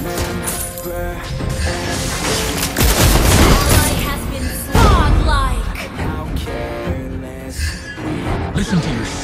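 Rapid bursts of gunfire ring out from Clint's gun in a video game, loud volleys with sharp cracks and heavier booms, stopping and starting across the stretch amid layered game effects and musical tones.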